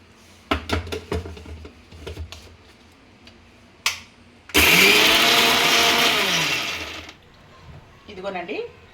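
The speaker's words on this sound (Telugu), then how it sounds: "నేనైతే మిక్సీ పట్టేసుకుంటా మసాలా" A mixer grinder whirs loudly for a few seconds grinding masala for a fish curry, preceded by clicks and knocks of the jar being set in place, with brief speech near the end.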